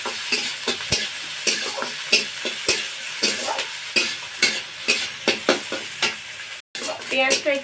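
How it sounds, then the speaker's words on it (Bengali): Chopped onion and slit green chillies fry in oil, a steady sizzle punctuated by frequent sharp scrapes and taps of a utensil stirring in the pan, close up, with a brief cut near the end. "পেঁয়াজটা খুব ভালো করে আমি তেলের সঙ্গে ভেজে নেব"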